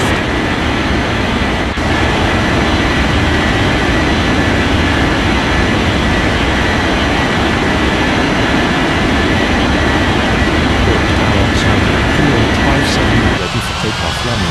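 An airliner takes off in an air traffic control game, a steady loud jet engine roar holding for the whole stretch, with controller radio calls spoken over it.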